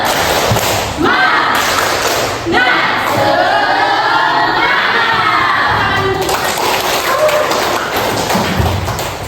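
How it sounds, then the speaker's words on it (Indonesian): A classroom of students performs a rhythmic spirit clapping chant, loud claps in quick patterned bursts mixed with shouted voices, near and energetic. "untuk membangkitkan semangat kembali di ujung pembelajaran kita tepuk semangat dulu"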